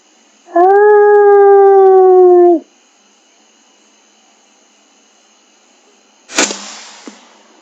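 A coyote howls across a hay field, one long sustained wavering note about two seconds long from some distance, followed by silence and then a sudden loud sharp bang with a fading tail.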